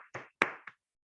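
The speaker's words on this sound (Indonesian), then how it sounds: "Tepuk tangan untuk pasangan soal 1" A few separate hand claps, about three sharp slaps in quick succession, ring out close and loud in a classroom quiz session, then stop, leaving silence.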